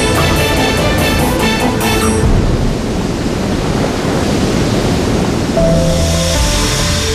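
Water pours off the fluke of a diving blue whale at sea, a loud, steady rushing hiss that keeps up throughout with no voices.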